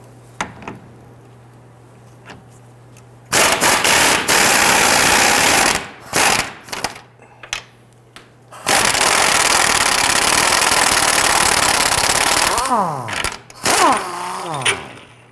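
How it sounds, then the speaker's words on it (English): An impact driver loosens a 21mm control arm bolt on a Nissan Quest in loud, close bursts of rapid hammering, several seconds long and separated by quieter gaps, with a low hum between them. "I'm going to use my impact driver on the bottom."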